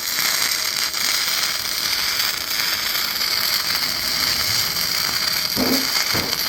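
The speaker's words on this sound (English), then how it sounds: "We're welding through rust, paint, and there's a little bit of grease on the back side." Bestarc MIG 145 flux core welder burning through rust, paint and a little grease, a steady dense crackle and sizzle, close and continuous with no pauses.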